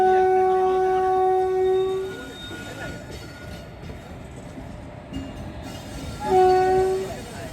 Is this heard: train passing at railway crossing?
yes